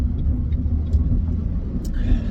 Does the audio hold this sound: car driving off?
yes